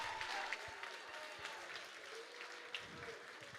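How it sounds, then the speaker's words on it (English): Audience applause after a five-round kickboxing championship bout, a steady wash of clapping from a crowd, moderately distant and fairly even, with a few louder claps standing out. "a round of applause for 2 great fighters and 1 great championship bout"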